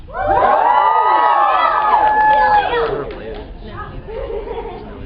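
A contestant at a convention dating-game show lets out a long, loud scream, then an excited crowd cheers and chatters, the shouting fading into lively audience noise.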